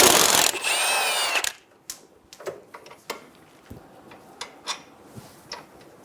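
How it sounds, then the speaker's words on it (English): A power tool fitted with a T50 bit and 15mm socket spins off the ball joint bolt nut on a 2000-2007 Ford Focus, a loud whirring burst, then scattered metallic clicks and clinks of handling nearby. "Using a T50 bit and a 15mm socket, we're going to remove the nut off of the ball joint bolt"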